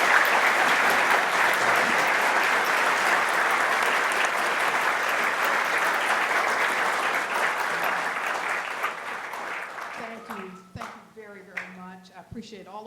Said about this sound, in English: Please, a round of applause for our guests.